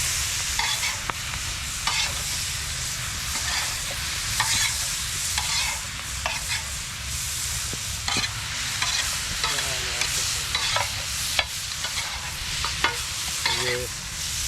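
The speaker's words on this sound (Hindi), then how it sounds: "टमाटोज़ डालने के बाद हम इसमें चिकन भी ऐड कर लेते हैं और इसको सारे को इसके अंदर मिक्स कर लेते हैं हम लोग" Chicken and tomatoes frying in a pot outdoors on an island, stirred with a utensil: continuous sizzle under repeated scraping and clinking strokes against the pot, close and steady, with no talking.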